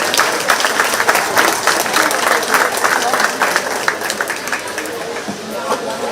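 Sustained applause from a county fair audience at a 4-H/FFA sheep show, dense clapping filling the stretch with a busy crowd murmur and some voices underneath.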